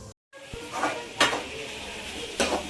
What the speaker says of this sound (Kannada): ತರಕಾರಿ ಎಲ್ಲ ಹುರಿತಾ ಇದ್ದೀನಿ